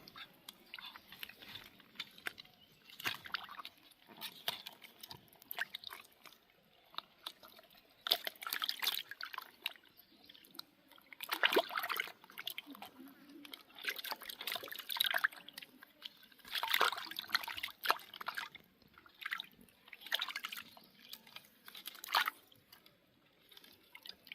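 Soft splashing and squelching of chicken meat being handled and rinsed in water, in irregular bursts, close up and fairly quiet.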